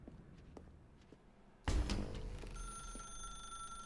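A telephone rings in the video game The Stanley Parable after a sudden loud thump, and the ring then keeps going as a steady electronic tone under the room noise.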